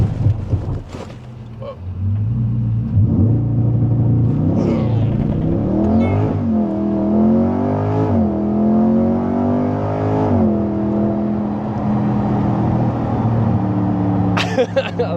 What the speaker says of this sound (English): we're about to do some launch controls in the C8 so we can test it out